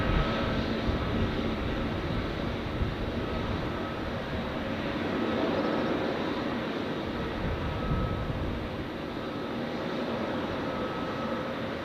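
Airliner jet engines at Zurich Airport as a Turkish Airlines A321neo from Istanbul has just landed, a continuous broad rumbling roar with hiss, steady and moderately distant, rising and easing gently with no talking.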